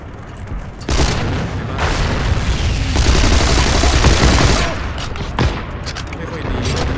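Gunfire in the video game Heroes & Generals: loud, sustained bursts of rapid shots with heavy booming impacts, broken by a brief lull before firing resumes.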